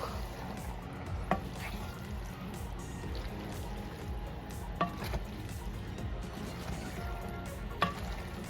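Pork sizzles steadily in a hot pan, a constant crackling hiss with a few sharp pops.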